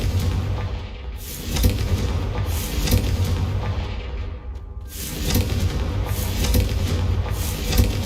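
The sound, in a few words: Confringo explosion spell cast in Hogwarts Legacy video game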